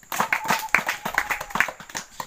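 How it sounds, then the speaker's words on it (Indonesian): A small group claps for a student team in a classroom or outdoor lesson setting, brief uneven claps of several hands, fairly close and moderately loud. "Tepuk tangan untuk kelompok 3."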